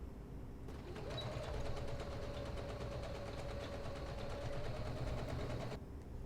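A sewing machine stitches a bodice seam between two large marked circles on a Butterick 5850 dress, running in a steady, fairly close, continuous whir for several seconds before stopping.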